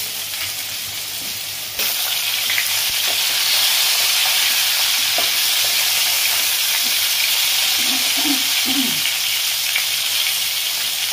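Local ridge gourd slices hit hot oil in a pan and break into a loud, steady, close sizzle that holds without pause, with a few faint clinks near the end.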